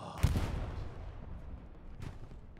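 Machine gun fire in the World War II shooter Hell Let Loose, a loud opening crack of gunfire that trails into rumbling reverberation, then a fainter burst later.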